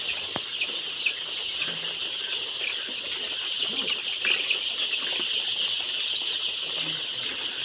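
Chickens in the brooding area of a poultry farm keep up a steady mass of high chirping and clucking, with an occasional wing flap close by and no talking.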